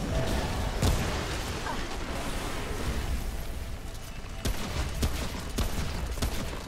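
Rapid gunfire in the video game Remnant: From the Ashes, a dense run of shots and bursts with sharp loud cracks standing out, continuous over a game soundscape with faint talk.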